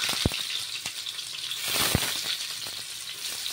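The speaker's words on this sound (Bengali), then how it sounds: "এবার কেটে রাখা পেঁয়াজটা দিয়ে দেব" Chopped onions fry in hot oil in a wok, giving a steady close sizzle broken by a few sharp spatula clacks and stirring scrapes, with no talking.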